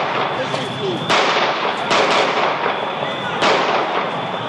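A police officer fires pistol shots at a terrorist from about two metres away: several sharp, loud reports spaced irregularly, each ringing out over a constant background of crowd commotion and voices.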